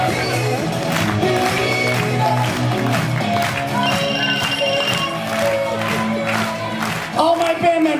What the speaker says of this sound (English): My band members, take a bow to this thunderous round of applause!